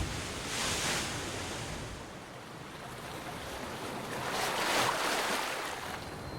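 Surf pounds a rocky seashore in a continuous broad wash of crashing water, swelling and easing in slow surges, loud and close.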